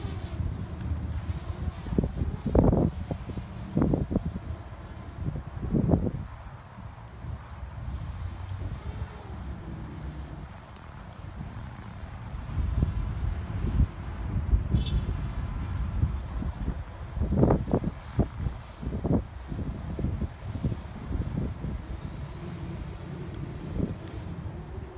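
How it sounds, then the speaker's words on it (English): Gusty strong wind buffets the microphone with low rumbling roars that swell and fade over a steady background noise. "The wind is very strong."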